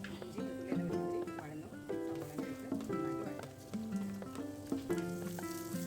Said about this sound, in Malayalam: സവോള ഇട്ട് നന്നായിട്ട് ഒന്ന് വഴറ്റിയെടുക്കുക